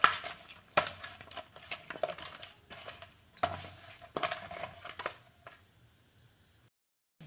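Fish being mixed by hand with turmeric powder and salt in a bowl, producing soft intermittent rubbing and light clinking bursts close by, quiet and separated by short pauses, ending in near silence.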